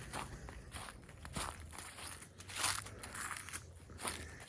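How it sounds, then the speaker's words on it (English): Footsteps crunching outdoors on hunting land, a steady walking rhythm of soft crunches close by over leaf litter or brush, with no talking. "I'm walking back towards where we came down at."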